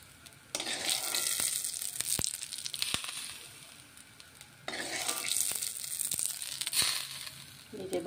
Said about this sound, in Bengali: এই যে ভাজা তেলটা যে এই যে ধনিয়া পাতার উপরে পড়ছে